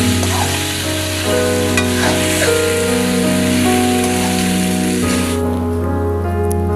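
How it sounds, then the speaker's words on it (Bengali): Vegetables and soybean chunks hiss as they are stir-fried in oil for vegetable biryani, a loud continuous sizzle close by with occasional utensil clinks and a hum underneath. "এবার এগুলিকে আমি ভালোভাবে নেড়ে কষিয়ে নেব।"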